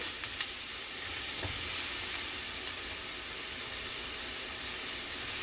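Chopped onion and celery sizzle steadily in a hot pan for stuffing, a constant bright frying hiss that is close and even throughout, heard on its own with no talking.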